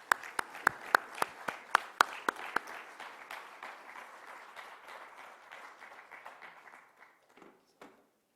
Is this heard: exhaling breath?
no